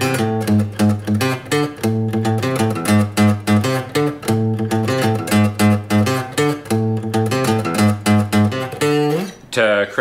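A guitar plays a riff as a steady, busy stream of rapidly picked and strummed notes, loud and close, ending with a brief scrape, with no voices.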